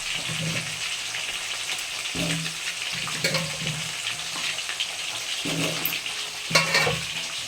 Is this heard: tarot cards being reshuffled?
no